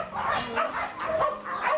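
Dogs at a Ukrainian animal shelter for street animals bark in quick repeated bursts, loud and close, several voices overlapping.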